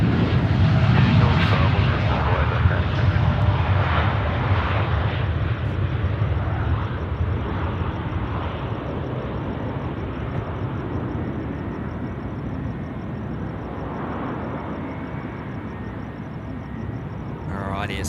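A passenger airplane lands at Sydney Airport at night, its engines a loud, broad roar that fills the whole stretch and eases slowly as it rolls out, with people talking over it.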